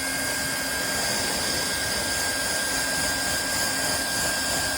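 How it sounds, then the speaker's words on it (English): A blower spreading a beeswax finish gives off a steady, even whine and rushing hum, constant and moderately loud with no pauses. "the blower sort of helps to spread it around"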